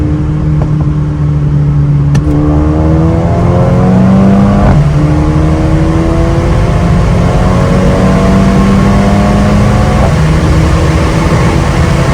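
A 2021 Mercedes-AMG A35 engine, 330 hp, pulls steadily through several gear changes at night, its drone rising and dropping at each shift, loud and close with no talking.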